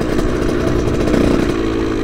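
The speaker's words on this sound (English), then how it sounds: "It's not easy to pop wheelies like this." A KTM motorcycle engine revs hard and steadily while the rider pops a wheelie, a loud, close, continuous mid-pitched engine roar with slight rises in pitch and no pauses.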